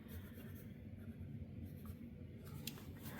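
A pencil scratches across paper while rocks are being sketched, a soft continuous scraping with short strokes that is quiet and close, with a brighter scratch near the end.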